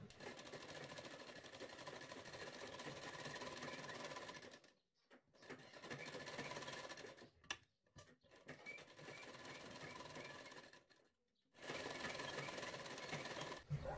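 A sewing machine stitches blouse fabric in continuous runs broken by a few short pauses, its fast, even mechanical whir close and steady throughout, with no voices.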